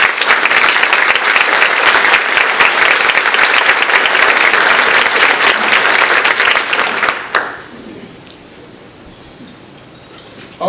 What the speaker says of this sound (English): let's give everybody an appreciative round of applause